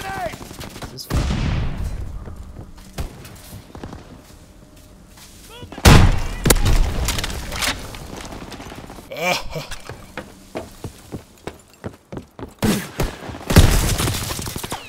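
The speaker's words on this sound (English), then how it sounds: "Throwing stun grenade!" Video game combat on PS4: a loud stun grenade blast followed by rapid bursts of gunfire and scattered shots, with heavy booms near the start and end, close and dominant.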